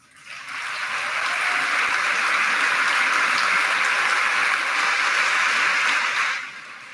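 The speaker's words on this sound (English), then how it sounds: "please stand and let's give them a round of applause" A graduation audience at Waconia High School applauds scholarship and award recipients, sustained broadband clapping that swells in quickly, holds steady for several seconds, then tapers off at the end.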